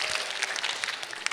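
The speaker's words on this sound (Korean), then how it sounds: "박수." Applause from an audience at a university group retreat workshop, a steady burst of many hands clapping, fairly close and continuous with no talk over it.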